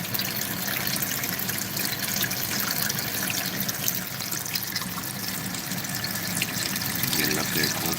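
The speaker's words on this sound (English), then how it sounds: "And just let it fill the cup." Tap water runs steadily into a cup during a water change for a cichlid aquarium, a continuous, moderately loud rushing pour lasting the whole stretch with no pauses.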